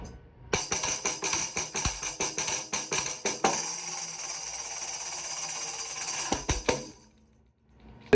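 Tambourine: a drum head with metal jingles around the frame, struck in a quick run of sharp jingly hits, then a sustained shimmering shake, ending with a few more strikes and fading into silence.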